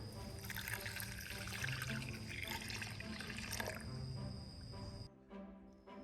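Water, 400 ml, poured into a pudding mixture, making a faint, steady splashing stream for about five seconds before it stops, followed by a few small drips.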